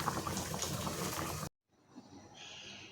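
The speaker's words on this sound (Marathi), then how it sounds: "आपल्याला एक पाच मिनटं उकळवून घ्यायचे" Curry with dried raw mango simmers in a pot on low gas. It makes a steady, fairly loud bubbling hiss that cuts off abruptly, then returns as quieter, softer bubbling.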